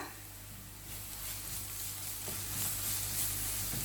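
Onion with a tablespoon of ginger garlic paste frying in a pan for an egg curry, a steady close sizzle that grows slightly louder toward the end, with no talking.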